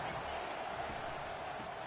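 A football stadium crowd roars steadily on third down, a dense, loud wall of cheering and noise that holds constant throughout with no clear individual voices.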